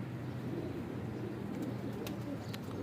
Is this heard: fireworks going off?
no